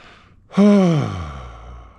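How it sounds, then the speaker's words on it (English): A single deep, voiced exhale sighs out close and loud during a toe and foot acupressure massage, falling slowly in pitch and trailing off into quiet breath. "Just keep that breathing going and relax."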